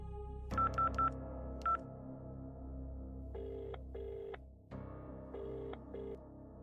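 Telephone keypad tones dial a number to call home, a quick burst of three or four beeps, then a lone beep, followed by longer tone pairs later on, all over a low steady background hum.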